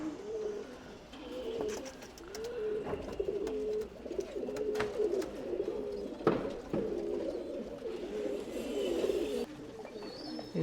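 Tumbler pigeons coo in a loft, giving soft, repeated throaty coos that overlap continuously at close range, mixed with rustling and occasional sharper knocks and flutters.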